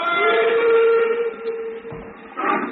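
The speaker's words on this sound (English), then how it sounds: "I stood there on the embankment as the train pulled away" A steam train pulling away from a station, its long steady whistle sounding loudly, then fading into rumbling wheels and another short whistle blast near the end.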